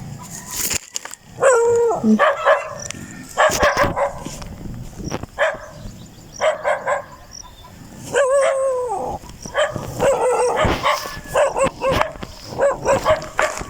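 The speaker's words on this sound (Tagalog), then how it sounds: "May aso." A dog barks repeatedly in close, loud bursts, mixed with yips and drawn-out howling cries, in an uneven rhythm with short pauses between volleys.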